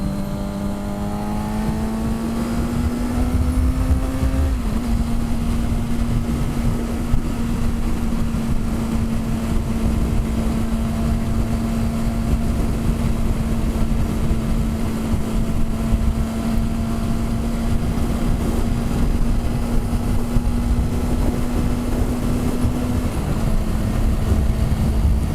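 A motorcycle cruising in sixth gear on a desert road during a storm, a steady droning engine tone that holds nearly constant throughout, with heavy wind roar over the microphone and no talking.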